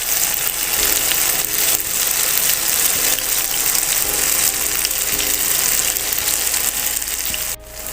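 Brinjal slices fry in oil, giving a continuous bright crackle and hiss, close and fairly loud, with a brief clatter near the end.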